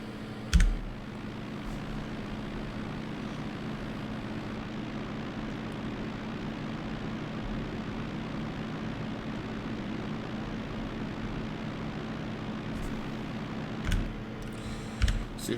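Aircraft engine droning steadily as a plane climbs after takeoff in a flight simulator game, a constant low hum with a few sharp keyboard clicks near the start and end.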